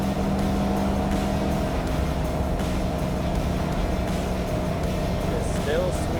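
Super Swamper tires roll at 60 mph and give off a steady, loud, droning hum inside the vehicle, continuous throughout and mixed with engine and road noise.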